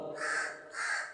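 A crow caws twice nearby, two loud, harsh calls spaced about half a second apart, clear against a quiet background.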